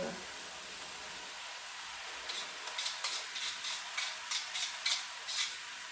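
Shredded cabbage drops into a hot pan of beef stir fry, followed by steady sizzling with a run of light scraping, stirring clatters close by.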